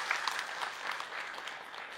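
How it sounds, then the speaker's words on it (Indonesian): Audience applause at an Islamic lecture gathering, a steady wash of hand clapping from a crowd, fairly faint and distant throughout the short stretch, with no voices over it. "Boleh tepuk tangan dulu dong buat Ahilman ya, buat kita semua."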